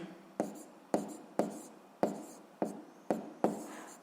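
Pen strokes on paper writing out numbers for a school physics exercise, seven crisp close taps and scratches in an even rhythm.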